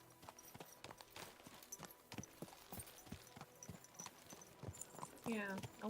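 Horse hooves clip-clop in a steady walking rhythm on hard ground, close and clear, while people talk over them and a voice rises near the end.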